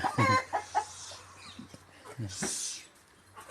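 Chickens clucking nearby in a Thai rural yard, a few short soft clucks and squawks scattered among quiet background, with a person talking faintly.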